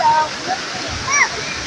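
Daranak Falls in Tanay, Rizal, a constant loud rush of falling water. High bird calls and voices come through faintly over it.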